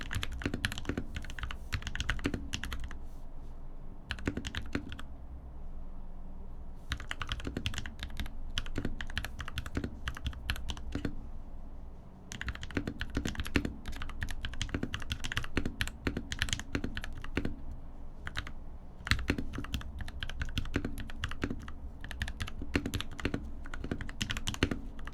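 Dense, continuous clicking of a freshly built, modded computer keyboard as someone types with a single finger, close and steady with brief pauses throughout.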